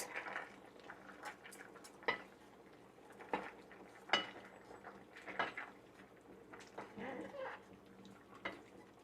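A spoon scrapes and clinks against a pot of pork igado or adobo simmering over medium heat, a few soft intermittent stirs with quiet background hiss, faint and close.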